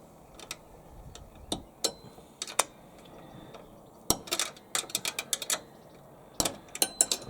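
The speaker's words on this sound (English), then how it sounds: "So now I've got a pair of 8mm spanners, and I'll just undo one of these bolts on the bottom here." Pair of 8mm spanners working a small nylock bolt loose on the underside of a mower gearbox, producing irregular sharp metallic clicks and taps, some in quick clusters, close by with no talk.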